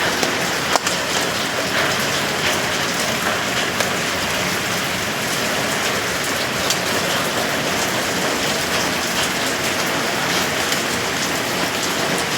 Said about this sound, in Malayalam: നല്ല മഴയാണ് ഇവിടെ. സൗണ്ട് കേൾക്കുന്നുണ്ടോ നിങ്ങൾക്ക്? ഷീറ്റിൽ വെള്ളം വീഴുന്നിട്ട്.